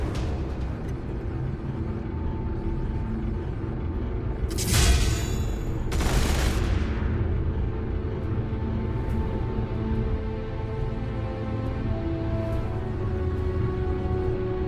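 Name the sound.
turret firing in video game Warhammer 40,000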